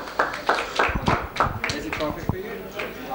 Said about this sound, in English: But can we have a big round of applause, please, for Mr. Andy Hulme, champion here in London